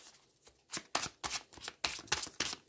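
Tarot cards being shuffled by hand, a close, dry run of quick papery riffles and slaps in an irregular rhythm, heard alone without talk.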